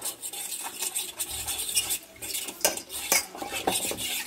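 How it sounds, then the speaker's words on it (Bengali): A utensil stirs batter thinned with water in a bowl, giving repeated close clinks and scrapes against the sides in an uneven rhythm, with no talking. "এবার জলটা আমি জল দিয়ে একটুখানি গুলে নেবো হালকা করে"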